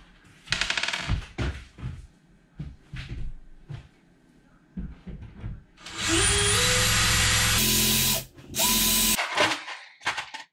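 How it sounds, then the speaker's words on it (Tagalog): Power drill boring a screw hole in a locker frame. Scattered clicks and handling knocks come first, then a loud steady whir of the drill running close by for about two seconds, followed by a second shorter burst. "I-drill ko lang yung hole para madaling ilagay yung screw."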